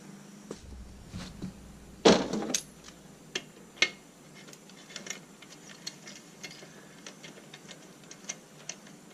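A flexible ratchet clicks during a wheel spacer install on a Kubota tractor, a series of small sharp ticks at an uneven pace, close and fairly quiet, with one louder metallic clank early on and no voices.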